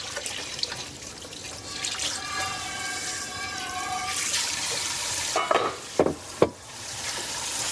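Water runs steadily from a kitchen tap while dishes are washed at close range, with splashing, a few louder clatters near the end, and faint household background.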